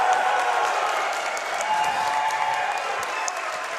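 A large convention audience at a speedrun event breaks into sustained, loud applause mixed with cheering and shouts, steady throughout.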